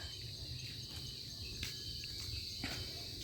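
Crickets and other insects chirp steadily in a rural provincial setting, a continuous high shrill drone with a few faint clicks and ticks over low background rumble and no talking.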